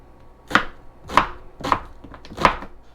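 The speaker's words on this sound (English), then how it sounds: "Calling for 1 medium onion sliced into rings." A knife cuts through a medium onion into half rings on a cutting board, four distinct sharp thuds spaced roughly evenly apart, close and clear with nothing else over them.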